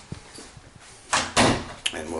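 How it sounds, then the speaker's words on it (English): A door is pulled shut in a hotel room, a couple of solid thuds and a latch clack after some soft footsteps and handling noise, close and fairly loud. "So lights out, close the door"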